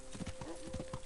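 Horse hooves in the Kingdom Come: Deliverance video game: a steady clip-clop rhythm of hoofbeats at a close, moderate level, ending on a louder sharp sound.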